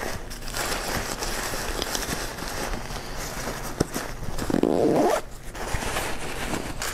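A single long zipper pulled along the side pouch of a backcountry hunting pack, close and clear, over steady background rustle with no talking.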